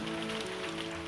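Hail patters down in a dense, even hiss of small impacts, soft and continuous, with no voices.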